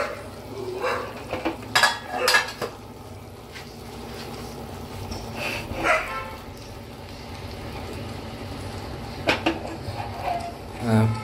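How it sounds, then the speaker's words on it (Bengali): A wok of pabda fish curry being shaken and stirred on the stove: scraping and clattering of the pan in bursts over a soft simmering sizzle, with brief talk in the background. "কড়াইটাকে এইভাবে নাড়ানোর কারণ হচ্ছে পাবদা মাছ ঝুলে গেলে নরম হয়ে যাবে।"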